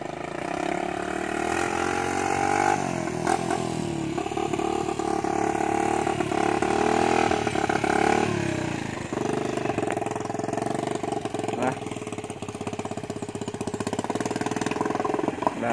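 A motorcycle engine runs steadily near a river in the rain, its mid-pitched drone holding throughout with a few swells in revving, loud and close, with no talk over it.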